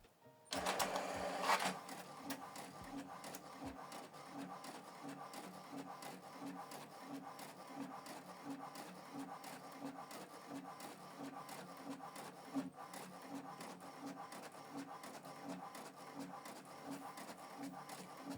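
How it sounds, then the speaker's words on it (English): An HP Deskjet 4130e inkjet printer runs close by, a rhythmic mechanical clatter and whir repeating steadily as the page feeds, after a brief louder burst at the start. "So this document is printing."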